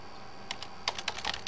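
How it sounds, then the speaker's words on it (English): Typing on a computer keyboard: a brief run of quick, irregular key clicks after a short pause, close and clear with no voices. "And I can begin typing"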